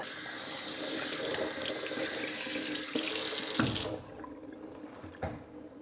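Pork ribs rinsed under a running kitchen tap, a loud steady gush of water that stops near the end, leaving a few drips and light handling sounds.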